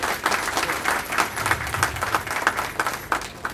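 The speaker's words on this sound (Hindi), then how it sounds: "मनीष कुमार जी, तालियां प्लीज जरूर बजाइए।" A crowd at an event in Lucknow where artificial limbs are given to disabled people breaks into applause, a busy patter of many hands that stays moderately loud and steady, with a few sharper claps near the front.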